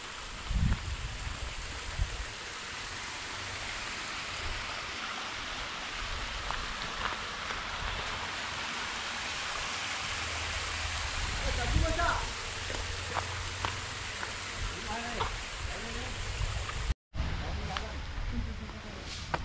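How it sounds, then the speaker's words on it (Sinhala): A stream at its source in a Sri Lankan village, running with a steady broadband wash of flowing water throughout, while people talk faintly over it now and then. "මෙතන තමයි වතුර පටන් ගන්න තැන"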